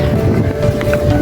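Strong wind blowing outside the Al-Jabbar mosque in Bandung, a loud low rumbling buffet across the microphone, continuous and close for just over a second.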